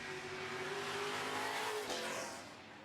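Super trucks, including the Dynasty Bathrooms number 2 truck, race on a racetrack, engines roaring loud and steady as they pass close by with a rising whine and faint tire noise.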